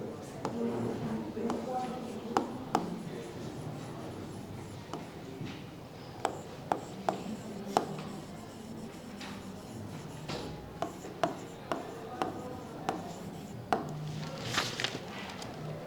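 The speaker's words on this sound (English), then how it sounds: "Note down the characters she is writing on the board." Writing on a board in a university classroom, heard as faint scratchy strokes and light taps that come irregularly over a low room murmur.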